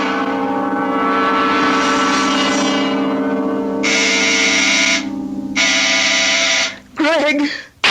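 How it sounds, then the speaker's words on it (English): A loud, steady electric door buzzer sounds in an old-time mystery radio drama, holding for several seconds, breaking off briefly, then returning before a short voice cuts in at the end. "When Sandy pushes that door buzzer, listen to it carefully, Florence."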